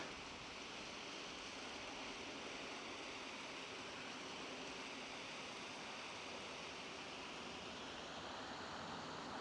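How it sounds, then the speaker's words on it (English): Steady roar of a waterfall with heavy water flow on an early-winter camping trip, a constant broadband rush with no breaks, fairly faint and heard alone. "The falls are right down there."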